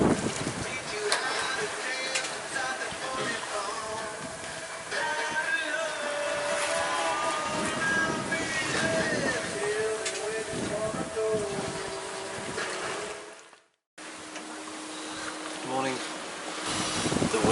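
Sailboat crossing the Atlantic east to west, with a continuous rushing of wind and water against the hull and creaking rigging, steady and fairly loud, breaking off briefly near the end before resuming.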